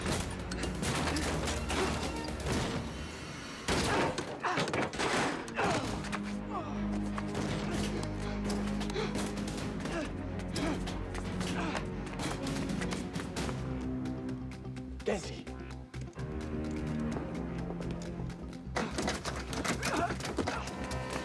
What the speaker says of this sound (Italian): abbiamo sentito degli spari. Sembra che vengano da sopra.